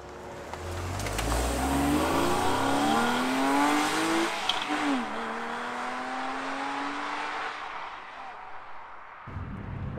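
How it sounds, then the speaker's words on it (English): A Porsche 911 991 Carrera engine revs up through the gears while driving, its pitch climbing in repeated rising sweeps that are loud and close, then settling into a steadier cruise before cutting off near the end. "I still can't quite believe that I'm driving a 911."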